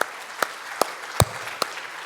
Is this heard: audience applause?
yes